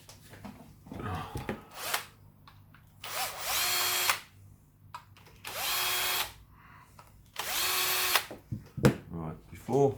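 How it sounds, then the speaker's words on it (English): A cordless power drill, set on drill mode, driving screws on an Arrma Vorteks 3s 4x4 RC car, running in several short whirring bursts with pauses between, close and fairly quiet, with small handling noises in the gaps. "you see the drill there? I've got it on drill"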